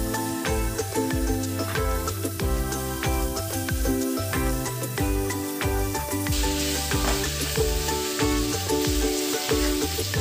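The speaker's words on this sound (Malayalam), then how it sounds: "കുറച്ച് കുരുമുളക് പൊടി ഇട്ട് കൊടുക്കാം. നന്നായിട്ട് ഇളക്കി യോജിപ്പിക്കാം." Chicken sizzles loudly as it is stir-fried with pepper powder for a Kerala-style chicken dish, a steady frying hiss broken by repeated scraping and clattering from the stirring utensil, with no voices.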